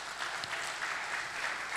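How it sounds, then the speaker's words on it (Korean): Audience applause of encouragement at a church summit, a steady wash of clapping from a seated crowd lasting under two seconds at a moderate, even level with no talk. "격려의 박수 한번 하겠습니다"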